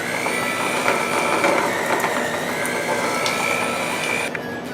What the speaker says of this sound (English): I'm going to use my hand mixer today.